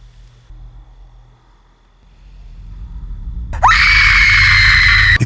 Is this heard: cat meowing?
no